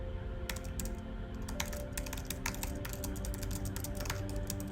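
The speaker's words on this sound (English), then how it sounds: "Fast typing." Fingers rattle rapidly across a computer keyboard in dense, irregular bursts of close clicks, with a steady low background hum underneath.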